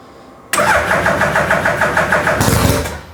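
A loud Suzuki Hayabusa engine in a workshop fires up abruptly and settles into a rough, pulsing idle, then gives a sharp brief rev near the end; close and dominant, no talk.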